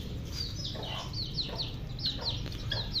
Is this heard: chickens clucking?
yes